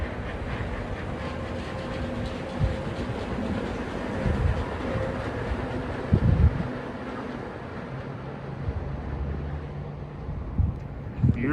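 A Disney World monorail train rolls past outdoors, a steady broad rumble with faint rhythmic clatter holding through the whole stretch, while people talk nearby and ambient crowd noise sits underneath.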